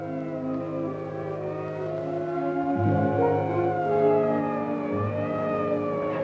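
A wailing siren rises and falls in pitch, steady and fairly loud throughout, the tone shifting as it seems to draw nearer, with no talking over it.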